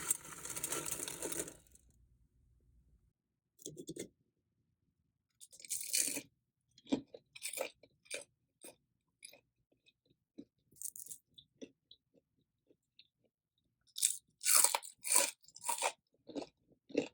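Air-fried cauliflower wings are bitten and chewed up close, giving a run of sharp, crisp crunches in irregular bursts with silent pauses between them.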